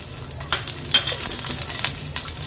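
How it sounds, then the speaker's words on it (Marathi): Green chillies and garlic cloves sizzling in a little oil on a pan, a constant crackling hiss close by with a few brighter scraping stirs on top. "आता ह्या तेलावर आपण ह्या हिरव्या मिरच्या आणि लसणाच्या पाकळ्या थोड्या परतून घेणार आहोत"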